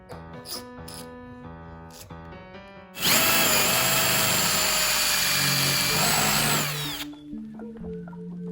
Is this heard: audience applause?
no